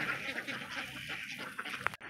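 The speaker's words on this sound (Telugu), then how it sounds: "మరి చూసారు కదా మా ఊర్లో బాతులు." Village ducks quack faintly at a distance, with a few soft calls over quiet outdoor background noise.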